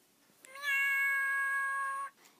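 A single drawn-out toy cat meow, electronic and steady in pitch, lasting about a second and a half, clear and close with nothing else around it.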